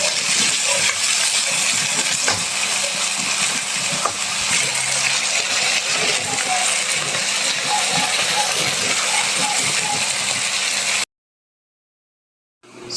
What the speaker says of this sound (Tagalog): Ating hahaluin mga palangga para sumuot ang toyo sa karne.